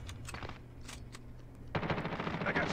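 Bursts of automatic gunfire in the mobile shooter Call of Duty Mobile, a few sharp shots early then a louder, sustained rapid volley in the final second, close and dominant.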